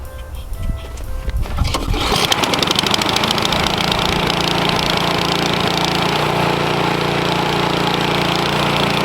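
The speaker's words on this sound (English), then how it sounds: "Now let's blow some snow. Turn it on, choke it." Ariens Professional 21 snowblower engine pulled to life with a few choppy turns, then catching into a loud, steady close-up roar that holds on as the machine runs.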